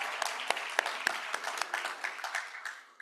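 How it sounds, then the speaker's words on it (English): A small graduation ceremony audience claps for graduating students, a handful of distinct, fairly close hands beating in loose rhythm that thins out and fades toward the end. "let's give a big round of applause and some woos for our students"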